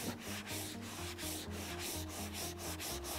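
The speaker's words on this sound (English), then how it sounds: "So go again here and sand this area a little bit bigger that you don't have a spot" A sanding pad rubs back and forth over nubuck leather to blend a light spot, making a close, rhythmic scratchy rasp of about eight quick strokes with no talk.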